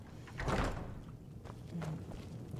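A door closing in the fantasy role-playing game Enderal, a single clear thump near the start followed by fainter knocks and room noise, heard alone without speech.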